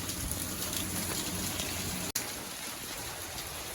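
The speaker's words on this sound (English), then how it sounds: "Still pouring down, raining." Heavy rain pours down steadily, a dense hiss of drops drumming on surfaces, with one brief click partway through.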